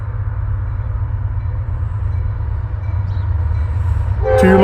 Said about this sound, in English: next train, CSX, going eastbound